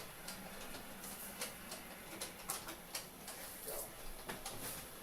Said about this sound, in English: I'll just run the logging train for a little bit.